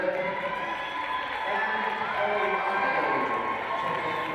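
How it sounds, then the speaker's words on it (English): Home-side crowd at a girls high school basketball game gives a steady wash of applause and cheering that holds at an even level throughout, with faint gym announcer talk mixed in. "As this group gets a well-deserved applause from the home side here."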